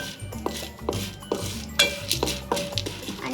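Metal spoon scraping and clinking against a cooking pot while a popcorn mixture is stirred, sharp irregular knocks and clanks sounding close, with no voices.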